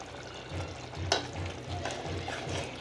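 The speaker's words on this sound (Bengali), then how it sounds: "এখন আমরা দিয়ে দিব কেটে রাখা চিকেনগুলো। এই পর্যায়ে মশলাটা অনেক ছিটাছিটি করে" Chicken pieces fry in a spiced paste in a pan, giving a steady low sizzle with soft stirring scrapes and one sharper clatter near the middle, no voices.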